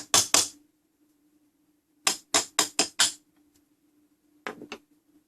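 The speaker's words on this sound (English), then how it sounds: "Oh, we have little hammers." Small hammers tap on metal during repair of a ship's clock fusee: two sharp knocks, a pause, a quick run of five, then a softer cluster of taps, close and crisp in a quiet room.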